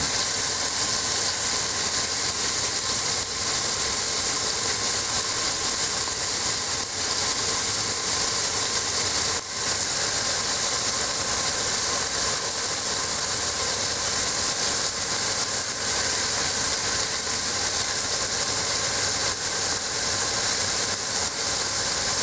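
Meat sizzling in a pot while browning for a goulash pot roast, a steady dense hiss that holds evenly throughout with faint scattered crackles and no talk.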